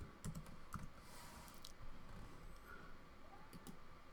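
Code is typed on a computer keyboard, the keys tapping faintly in short irregular bursts with pauses, quiet and close, no voices.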